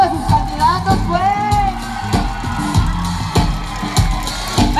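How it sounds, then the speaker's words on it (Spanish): Crowd at a political rally in Tehuacán, Puebla cheering and whooping for the candidates, a loud, busy mix of shouts, yells and clapping with voices calling out over it. "El aplauso para sus candidatos"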